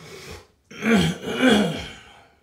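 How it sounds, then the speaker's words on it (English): A person clears their throat twice in quick succession, close and fairly loud, after a brief breathy sound and a short pause. "I should probably clear my throat before I start talking."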